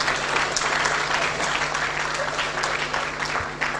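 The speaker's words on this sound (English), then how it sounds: "M. Yomba, applaudissez pour lui s'il vous plaît." Steady applause from an audience fills the whole stretch, dense and even, with no voices rising above it.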